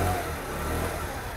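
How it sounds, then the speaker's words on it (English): A 2019 Sym Symply 50cc four-stroke scooter, stock with standard exhaust, idling smoothly at low volume with a steady, even engine hum and no revving. "The engine's running now,"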